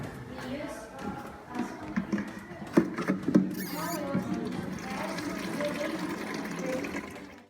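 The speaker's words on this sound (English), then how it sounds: "And then we put the water into the jerrycan." Water pours and splashes into a jerrycan during a lung tidal-capacity experiment, a gurgling, irregular fill with sporadic patter, with talk audible over it.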